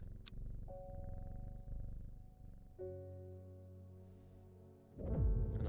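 A cat purrs in the video game Strange Horticulture, a soft, steady low rumble that runs continuously beneath gentle sustained musical tones, quiet overall with a brief louder swell near the end.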